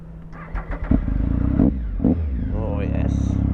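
A motorcycle engine runs loud and close while riding, with a rumbling idle that rises in short revs and settles back, and a voice speaks over the engine noise.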